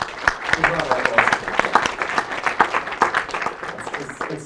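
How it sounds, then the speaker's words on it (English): At a React meetup in New York, the audience claps for the organizers in a moderate, uneven round of individual hand claps with crowd noise, fading slightly toward the end. "Huge round of applause."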